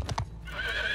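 A horse in Mount & Blade 2: Bannerlord gives two quick hoof clops, then a loud, close neigh that rises and wavers, all within about a second.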